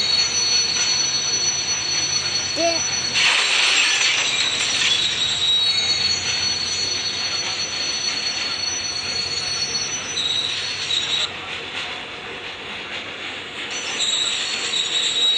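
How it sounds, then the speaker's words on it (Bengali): In the video game Indian Bike Driving 3D, a train brakes with a steady, loud metallic squeal of wheels on rails, grinding continuously as it slows, with no talk. "এদিকে আমরা ট্রেন থামাবো।"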